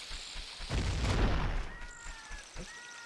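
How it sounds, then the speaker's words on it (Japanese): In the video game Zelda: Ocarina of Time, an explosion sounds as a single heavy boom that swells and then fades, followed by faint game chimes and tones. "とりあえずここを爆発させます"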